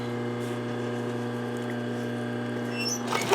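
A sewing machine runs a long stitch, sewing tape down the middle onto the edge of fabric. Its motor gives a steady, even hum, and a brief clatter near the end.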